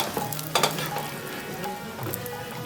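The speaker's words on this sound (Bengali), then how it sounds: "এখন দিয়ে দিচ্ছি আরো দু চামচ ঘি মিশিয়ে নিচ্ছি" Vermicelli sweet being stirred in a pan with extra ghee, sizzling softly and steadily at close range, with a few brief scraping strokes from the spoon.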